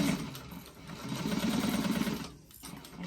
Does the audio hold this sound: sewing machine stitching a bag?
yes